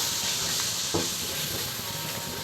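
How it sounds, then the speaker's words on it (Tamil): Ground ginger paste sautés in a pan for chicken biryani, making a steady, close hiss and sizzle with a faint stir. "இப்போ இதெல்லாம் நல்லா வதக்கிடுவோம்"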